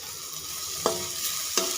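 Cauliflower frying in a pan with turmeric gives a steady close sizzle and hiss, broken by two brief scraping stirs of a spatula against the pan.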